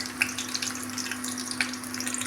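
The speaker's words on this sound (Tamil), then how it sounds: "இப்போ நம்ம வெங்காயம் வரமிளகாய் நல்லா வதங்கிடுச்சு" Chopped onion and dried red chillies sautéing in a pan, a soft, steady sizzle with faint crackles and pops, fairly quiet and alone.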